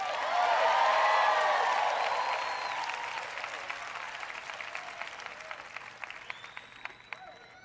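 Church audience applauding and cheering, a loud burst of clapping and whoops that gradually thins to scattered claps.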